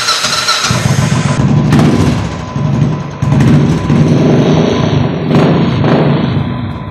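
Royal Enfield Classic 500 motorcycle, a 2019 double-disc model fitted with a beat silencer, starting and idling loud and close, its deep thumping exhaust beat pulsing steadily with a few revs over about seven seconds.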